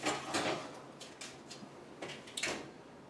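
An oven door shuts with a few clattering knocks as a baking dish of chocolate chip peanut butter blondies goes into a home oven heated to 325; sharp, close taps and a thud, no talking.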